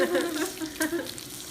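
Bacon frying in a pan for Brussels sprouts, a soft, steady sizzle and crackle with occasional small pops, faint and close, with no voices.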